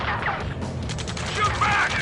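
Gunfire in the Ace Combat 7 game, a dense crackle of shots and mechanical clatter during a ground firefight, with shouting voices over the din.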